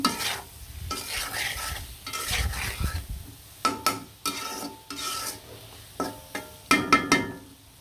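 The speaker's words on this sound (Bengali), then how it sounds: "লবণ মরিচ হলুদ ধনার গুঁড়া দিয়ে ভালো করে টমেটোটা কষিয়ে নেব" Tomatoes frying with salt, chili, turmeric and coriander powder sizzle in a pan as a spatula stirs and scrapes, first in a soft, continuous hiss, then in sharper, close scraping strokes.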